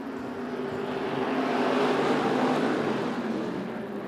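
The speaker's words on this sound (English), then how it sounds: "We are underway with heat race number 2 for the stock cars" IMCA stock cars roaring around Arizona Speedway during a heat race, a continuous loud engine drone that builds slightly and then holds, with no voices over it.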